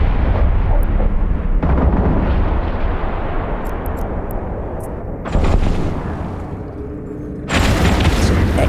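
Ship weapons in the space game EVE Online fire in heavy booming bursts that swell and cut off abruptly, with dense rumbling blasts overlapping into a continuous barrage.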